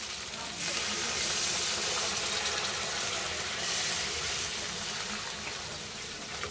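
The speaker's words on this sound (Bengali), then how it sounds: "এবার এর মধ্যে একটু পরিমাণ মতো জল দিয়ে দেবো। আমি উষ্ণ গরম জল দিচ্ছি।" Warm water poured into fried spice masala in a pan for rohu fish kalia, a steady close rushing pour with a hiss, lasting the whole stretch without talk.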